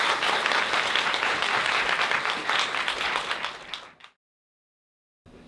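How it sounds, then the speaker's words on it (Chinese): An audience applauds a speaker about to give a talk on reading: dense, loud clapping that fades over about four seconds, then silence. "我们以热烈的掌声欢迎詹宏志詹大叔"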